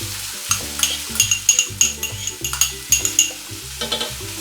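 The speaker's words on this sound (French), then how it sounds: "on va ajouter notre tomate" Tomato tipped into a pan of sizzling spices for a vegetarian potato, carrot and pepper tajine, with steady frying hiss and stirring, broken by repeated clinks and scrapes of a utensil against the pot.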